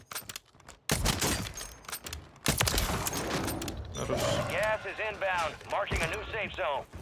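Rapid bursts of gunfire in the video game Warzone 3 crackle and pop in uneven volleys, with chatter running underneath and over the shots.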